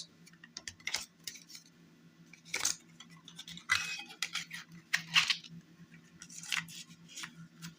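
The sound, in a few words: opening a Tracy Chapman cassette case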